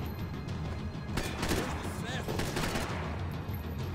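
Blind-fire gunshots ring out in the Max Payne 3 video game during a nightclub shootout, a fairly faint cluster of rapid shots and crashes within a busy, noisy game mix.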